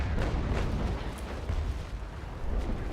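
Frigate cannons fire in a naval battle in the video game Naval Action Legends, a rolling series of deep booms and rumbling blasts over about three seconds, layered and fairly heavy.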